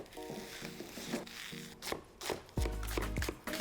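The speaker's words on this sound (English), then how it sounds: "Finally chop 1 leek." A knife chops a leek on a cutting board, a few firm cuts followed by a longer louder run of rapid chopping, heard up close with no talking.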